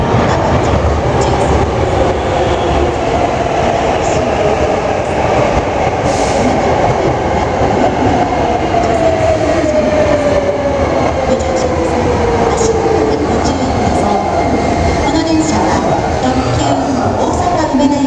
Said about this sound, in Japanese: 京都淡路方面へ向かう電車が到着します。